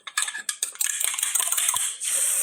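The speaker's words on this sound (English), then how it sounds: "Pan back on." A frying pan is set back onto a wiped stove burner, giving a quick run of close metallic clanks and scrapes, followed by a steady soft hiss.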